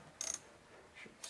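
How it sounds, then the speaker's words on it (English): Brief metallic ratcheting clicks as a hose clamp is tightened down on a CTS Turbo cold air intake on a Mk6 Golf R, two short close bursts with a quiet gap between them. "slide this hose clamp over and tighten it down"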